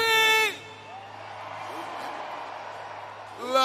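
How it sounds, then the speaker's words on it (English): An arena crowd at a Monster Jam event in Newark's Prudential Center screams in a sustained roar between bursts of an announcer talking loudly at the start and end. "Oh, I need everybody to scream."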